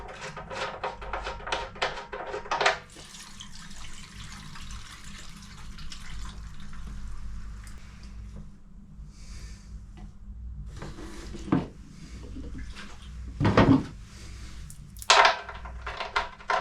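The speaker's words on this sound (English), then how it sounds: "There's always some petrol left in the bottom, so once it's stopped running out the tap" Petrol running from the fuel tap of a 1942 Harley Davidson WLA into a can, a faint steady trickle with irregular clinks and knocks scattered throughout.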